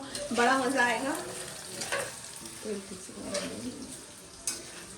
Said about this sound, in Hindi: बातों में तेल अच्छा गरम नहीं हुआ, पनीर डाल मारा